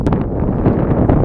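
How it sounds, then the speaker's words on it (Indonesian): Strong wind gusts across an open hilltop in Lombok, a steady broadband roar of buffeting air pressing on the microphone with no break, loud and close throughout. "Angin berhembus kencang, menerpa wajah"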